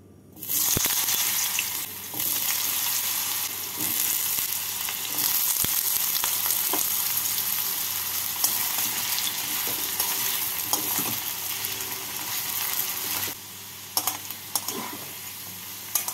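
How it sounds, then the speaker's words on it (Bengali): Small pieces of medium potato crackle and sizzle loudly in hot oil in a kadai, a dense continuous frying hiss that eases near the end with a few clinks of a utensil. "সেই আলুগুলোকে ভেজে নেব।"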